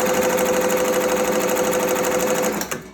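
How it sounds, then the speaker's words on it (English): An embroidery machine sews steadily for a few seconds with a fast, even needle rhythm and motor whir, loud and close, then winds down at the end, with no voices. "now when I hit start, it's gonna go ahead and start sewing from that point where it's currently at"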